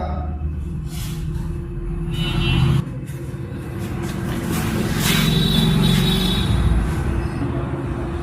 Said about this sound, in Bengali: উনি স্টার্ট দিয়ে চলে গেল